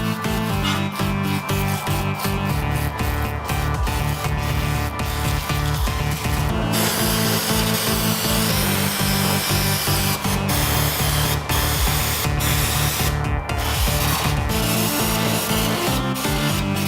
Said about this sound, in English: I'm going to go ahead and start by getting as much of this dirt and grime off as I can.